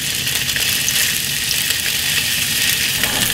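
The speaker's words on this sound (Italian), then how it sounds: "Facciamolo rosolare un po' da una parte e un po' dall'altra." Food browns in a frying pan, turned so both sides cook. A steady, loud, crackling sizzle carries on without a break and no one speaks.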